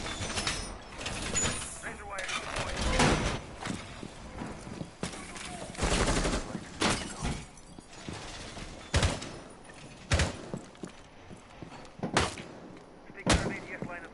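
Sharp bursts of fireworks going off outside, a string of loud irregular cracks and bangs spaced a second or two apart, with game sounds and voices running underneath.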